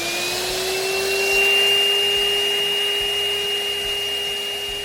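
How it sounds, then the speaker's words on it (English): A 35-year-old shop vac runs steadily to pull mule tape and a bag through conduit, a loud continuous close whine with a sustained motor hum. "my 35-year-old shop vac has enough oomph to pull that mule tape and that bag"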